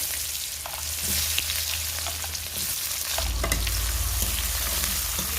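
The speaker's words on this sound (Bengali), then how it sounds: "পেঁয়াজ হালকা করে একটু ভেজে নেব পেঁয়াজগুলো ভাজি হতে থাক" Sliced onion frying in a wok with whole cumin and bay leaf in oil left from frying fish, a dense continuous sizzle with some stirring, close and steady, heavier toward the end.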